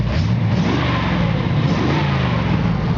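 A 1972 Camaro engine revs with a deep exhaust rumble, loud and close, holding a steady, continuous roar for the whole stretch with no voices.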